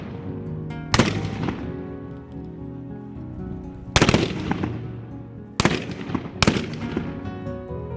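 A squad of musket firers lets off several loud, booming volleys, some close together, each echoing away into a sustained rumble between shots.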